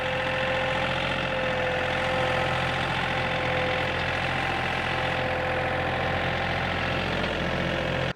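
A tractor engine runs steadily while gravel is spread with a box blade and bucket, a loud constant idle-like rumble that continues without pause and with no talk.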